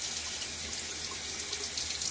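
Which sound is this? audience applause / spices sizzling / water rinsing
water rinsing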